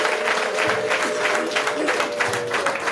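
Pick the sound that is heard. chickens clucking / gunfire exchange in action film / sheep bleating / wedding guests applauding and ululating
wedding guests applauding and ululating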